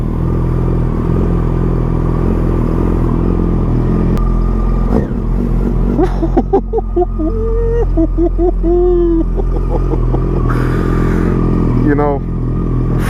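A motorcycle with a 5-valve Genesis engine revs in short blips, close and loud, over a steady idle; a person talks briefly alongside it.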